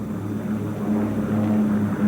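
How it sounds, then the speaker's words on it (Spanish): A World War II Ilyushin Il-2 ground attack plane droning overhead with propeller engines, a steady low throbbing hum at a constant loud level. "Sobre esta volaban grupos de Ilyushins Il-2,"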